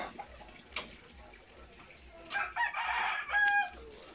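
Native chickens and a rooster in a rice field in Iriga City give scattered clucks, followed by a fairly loud crow lasting about a second, heard outdoors with some faint background.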